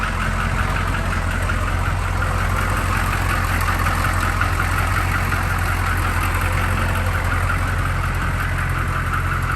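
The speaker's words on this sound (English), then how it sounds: "I want you guys to hear this engine, especially when it's warm, with that exhaust." A warm M1008 CUCV pickup truck's diesel engine idles steadily up close about two minutes after starting, a constant low rumbling clatter with no change in pace.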